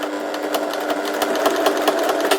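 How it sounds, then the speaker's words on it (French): Sewing machine stitching two pinned fabric squares together about 1 cm from the edge, a steady rapid mechanical whir with a fine rhythmic needle pulse, loud and close, with no talking. "je vais les coudre ensemble, donc à 1 cm du bord"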